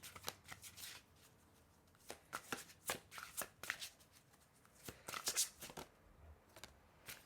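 Tarot cards are shuffled close up, in quiet, repeated soft riffles and taps that come in irregular bursts, with no talking.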